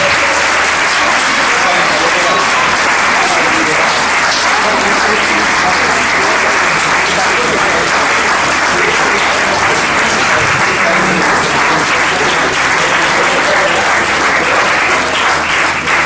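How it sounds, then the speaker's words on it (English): Sustained, loud audience applause fills a birthday party room, dense steady clapping from a crowd continuing without pause, with some voices mixed in. "Big round of applause"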